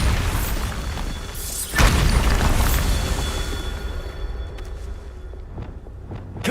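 A Bombarda spell in Hogwarts Legacy sets off a loud, deep explosion that booms suddenly over a steady rumbling game backdrop, then fades into a long, rolling tail.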